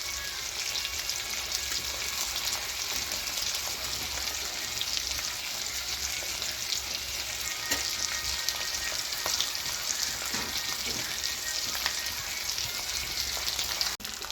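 Korameenu fish fries in a pan with a steady, dense sizzle and crackle that runs unbroken throughout, close and fairly loud, with no voices.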